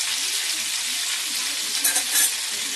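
Spices spluttering and crackling in hot oil for a Telugu chicken 65, a steady bright sizzle throughout with a few sharper pops near the end and no talk.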